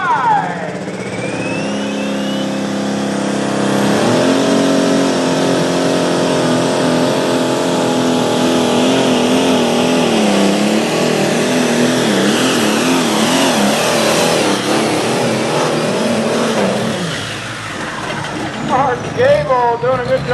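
Father's Pride, a Chalmers 180 pulling tractor, roars loud and steady at a night tractor pull in Langford, New York, its engine note wavering as it strains down the track, then cutting off near the end while an announcer talks.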